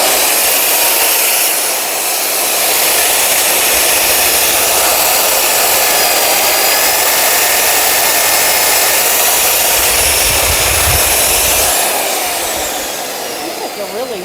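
Mag drill with a cutter boring at high speed through metal during a dump truck build, a loud, steady high-pitched whine that dips briefly and tails off near the end.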